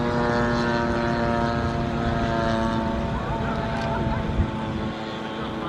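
A Ziroli all-balsa Panther model jet with an electric ducted fan and big battery packs flies at a warbirds airshow, its steady high-pitched whine holding loud and constant with rich tonal harmonics, fading slightly near the end.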